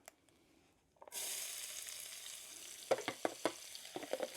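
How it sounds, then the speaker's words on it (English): Onions and garlic hit hot olive oil in a cast-iron pan over an open campfire, bursting into a loud, steady sizzle after a quiet start, with several sharp utensil clinks near the end. "Throw a little bit more olive oil in. That's the onions and the garlic."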